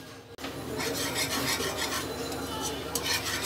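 Green mango pulp pushed gently through a sieve by hand, a soft continuous rasping and rubbing with faint scraping strokes, fairly quiet and steady with no talking.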